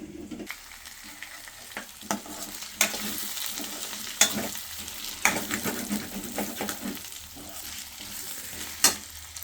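Potato and tomato curry cooks in a pan with a steady, soft sizzle. Scattered utensil scrapes and clinks sound close by, and no one speaks.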